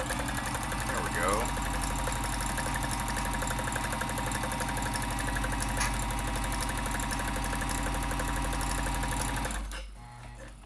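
A vintage Janome Combi DX 502 sewing machine stitches in a fast, steady mechanical whir with rhythmic needle ticking that runs continuously, then winds down and stops near the end, with a brief spoken remark.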